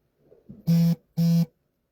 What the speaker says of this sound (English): I have new notifications, is what it said.